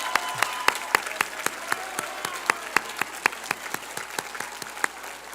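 At a graduation ceremony, an audience applauds award nominees with a moderate, evenly spaced round of clapping that carries on steadily throughout.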